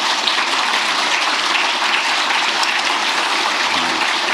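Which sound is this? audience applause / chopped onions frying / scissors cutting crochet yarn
audience applause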